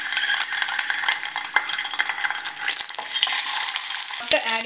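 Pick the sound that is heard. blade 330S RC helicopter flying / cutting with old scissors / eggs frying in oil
eggs frying in oil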